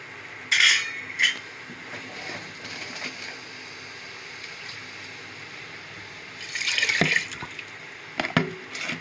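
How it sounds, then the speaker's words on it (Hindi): Basmati rice pours and rattles into hot biryani stock in a pot, with splashing, clinks of utensils and bubbling, in two louder bursts separated by quieter simmering. "यखनी पहले से बहुत गर्म है और इसके अंदर हमने चावल ऐड कर दिए हैं"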